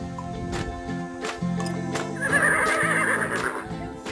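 A horse at a riding camp in Le Horlay, Belgium, gives a loud, clear whinny that rises and trembles, set against a busy background of other whinnies and soft hoof sounds.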